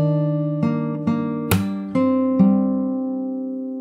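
Fingerstyle acoustic guitar picks a slow phrase from a song, single notes plucked one by one over ringing open tones, close and clear with no talking.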